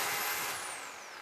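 A Makita hammer drill drilling a hole gives a loud, steady high-pitched whine with dense hammering rasp. Its motor pitch sweeps gradually downward as it runs on its own, with no talking.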